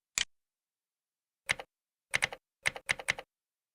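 Computer keyboard keys typed in short bursts while searching in the AWS console: one early click, a pause, then quick clusters of crisp close keystrokes in an otherwise silent room.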